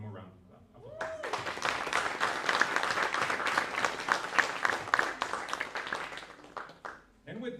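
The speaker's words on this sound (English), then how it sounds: "So one more round of applause." An audience at a school reclassification ceremony breaks into sustained applause, a dense, fairly distant wash of clapping lasting several seconds before fading, with a voice talking briefly at the start and end.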